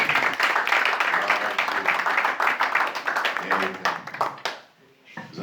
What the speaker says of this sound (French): Est-ce qu'on peut donner une acclamation?